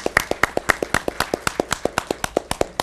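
Around two dozen quick hand claps from a few people at a school board meeting sound in a brisk, slightly uneven rhythm, close and crisp, with no talk over them.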